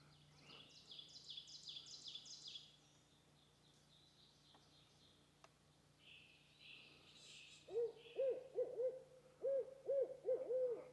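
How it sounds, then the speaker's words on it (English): An owl hoots repeatedly in a clear rhythmic series near the end, moderately close, after a stretch of quieter bird chirps in an outdoor woodland setting at an off-grid homestead near balsam firs. "The owl's pulling an all-nighter."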